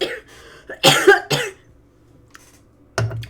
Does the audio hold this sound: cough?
yes